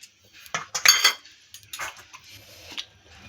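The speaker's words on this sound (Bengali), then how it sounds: "তাহলে এবার আমি চিকেনটাকে মেখে নেব।" Chicken being mixed by hand with garlic paste, ginger paste, garam masala and yogurt in a bowl, giving a few soft clinks and scrapes against the dish followed by quieter wet squelching, close and faint.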